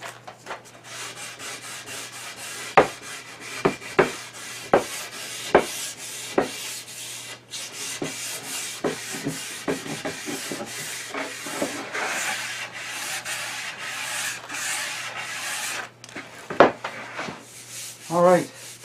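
Coarse sanding of a small wooden charcuterie board, a continuous close scratchy rubbing with uneven strokes and occasional sharper knocks, running steadily for the whole stretch without talk.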